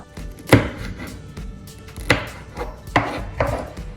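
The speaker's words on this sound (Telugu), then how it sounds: "సో అన్ని చిల్లీస్ ఇలాగా క్రాస్గా కట్ చేసేసుకుందాం" Chillies cut crosswise with a knife on a board: several sharp, irregular knife strikes close up, with quiet handling between them and no speech.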